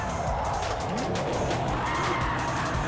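A Ford Mustang RTR in the racing game Project Cars 2 roars at high revs with steady engine drone and tire squeal, loud and continuous throughout.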